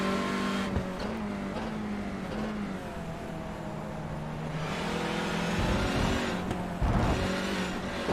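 A race car engine in a sim racing game at Magny-Cours gives a sustained high-revving drone that rises and dips through the corners, with a few sharp shifts, steady and fairly quiet, without speech.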